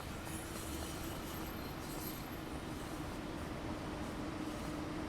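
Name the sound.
train passing in Train Sim World 6 video game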